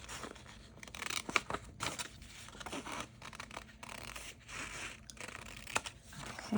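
Scissors snipping pieces of paper off a junk journal page, a quiet series of crisp cuts and rustling paper crinkles arriving in irregular bursts, close by, with no speech.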